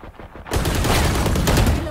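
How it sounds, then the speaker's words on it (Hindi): Automatic gunfire in the shooter Valorant bursts in after a quiet half second, dense rapid shots that stay loud and close to the end. "हमने तो गलती में फायर कर दिया।"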